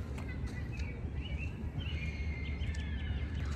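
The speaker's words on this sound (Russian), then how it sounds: "Чайки кричат." Seagulls crying outdoors on a weekend grilling outing, a few faint, drawn-out calls rising over a steady rumble of background noise.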